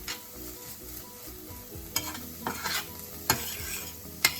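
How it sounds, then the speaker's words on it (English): Mixed vegetables with onions and peppers sautéing in a pan for Japanese curry, a soft low sizzle under a few sharp spoon scrapes and stirring knocks, with no talking. "I just dumped my mixed vegetables with the onions and the peppers so that they can saute together."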